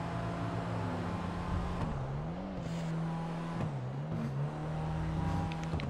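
The Brioso 300, a classic Fiat 500-style car in GTA 5, heard from the first-person view inside the cabin: a steady muffled engine drone that rises and dips through gear changes, with no talking.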